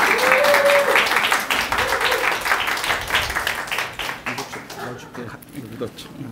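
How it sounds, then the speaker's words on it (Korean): A church congregation gives dense, warm applause in welcome of a guest speaker, the clapping loud at first and gradually thinning out, with a voice speaking over it. "우리 사랑의 박수로, 따뜻한 사랑의 박수로 환영하겠습니다."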